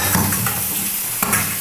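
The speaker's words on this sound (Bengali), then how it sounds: "এবার আমি চিকেনটাও দিয়ে দিচ্ছি।" Raw, unmarinated chicken pieces going into a hot frying pan for a Bengali-style curry, giving a steady sizzle with stirring scrapes and a brief clatter near the end, close and fairly loud.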